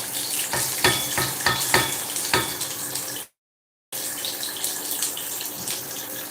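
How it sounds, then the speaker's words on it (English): Onion fries in a pan for bachelor's rice, a loud continuous sizzle with a few sharp stirring scrapes, briefly cut to silence midway before the frying resumes. "We're going to leave the onion to fry it till it's brown."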